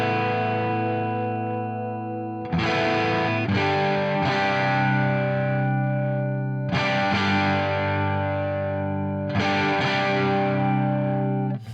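Guitar chords played through Arturia FX Collection 2 with a harmonics effect: a few sustained, rich, heavily processed strums, each ringing out loud and close with a distorted, chorused shimmer.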